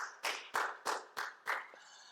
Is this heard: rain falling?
no